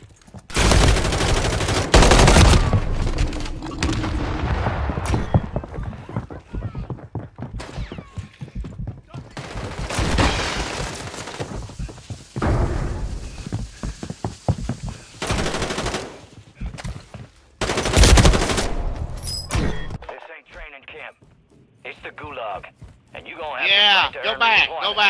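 Video game gunfire crackles in repeated bursts and volleys, loud and close, mixed with game sound effects and players talking over it.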